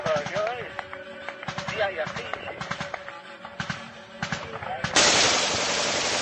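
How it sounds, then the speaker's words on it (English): Bursts of gunfire in war footage from Ukraine, with scattered sharp cracks and short rapid volleys among talk and music, ending in a loud rushing blast. "And now see him firing again."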